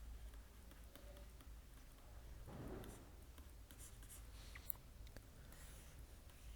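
Marker or pen scratching out the word Odisha on a board during a Hindi-language current affairs lesson, a soft continuous rubbing stroke with a brief denser burst near the middle and a sharp tap late, quiet and close.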